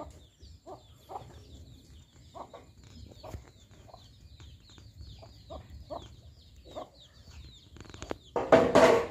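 A rooster and several chickens, including capons, cluck and call repeatedly on a mountain pomelo farm in Hòa Bình, Vietnam, ending in a loud close burst of squawking and flapping.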